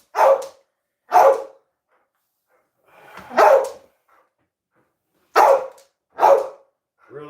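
Dog barking in a home kitchen, five loud separate barks spaced out over several seconds with quiet gaps between them.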